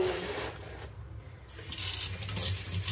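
Tap water runs steadily into a kitchen sink while a cut rohu-type fish is rinsed, a broad splashing hiss that briefly dips and then swells louder again as the stream hits the fish and basin.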